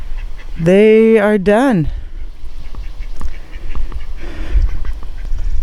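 Domestic ducks quack loudly up close in a short burst of calls, followed by a person speaking briefly in a garden at early morning.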